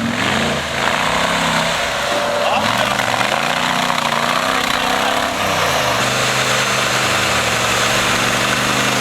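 A 4x4 jeep engine labours on an off-road climb near Dilijan in Armenia, a loud, continuous low rumble with shifting pitch throughout, while people talk over it.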